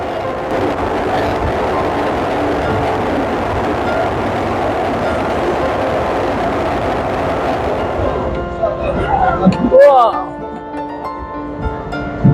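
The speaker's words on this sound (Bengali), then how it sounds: "বরফের মাঝখান দিয়ে ছুটে চলেছে কিন্তু আমাদের ট্রেন" A passenger train on the Banihal line in Kashmir, crossing snowy country near the Pir Panjal tunnel, gives a steady, loud rolling rumble for several seconds before the sound thins and shifts near the end.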